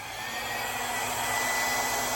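A Bloom hair dryer switched on and running gives a steady, even whooshing whir that holds close and constant throughout, with no voices over it.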